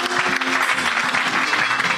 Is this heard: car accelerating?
no